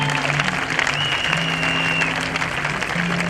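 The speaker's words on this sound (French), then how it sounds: "Est-ce que tu peux acclamer d'abord pour toi-même?" Applause and cheering from an audience at a university concert fill the room as a steady, dense clapping wash for the whole stretch, with a sustained tone running underneath.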